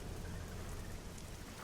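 Falling crimson blood rain in the video game Rain Code, a steady dense patter of rain with a low rumbling undertone, continuous and moderately loud for a brief moment.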